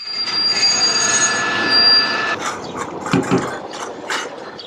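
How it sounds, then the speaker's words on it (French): A train passes on a single-track line at a Bulgarian station, with a loud rumble, high steady wheel squeal early on, and a brief dog bark midway; no talk. "Un train de marchandises en provenance du nord va attendre le croisement avec l'express que nous allons emprunter"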